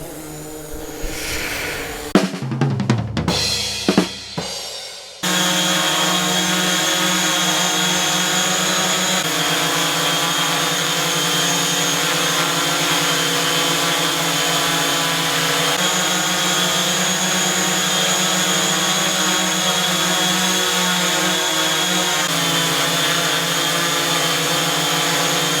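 A DJI Mavic Pro drone fitted with Master Air Screw Stealth propellers hovers with a steady, close, tonal whine that runs unbroken for about twenty seconds, after a brief burst of louder motor and wind noise at the start.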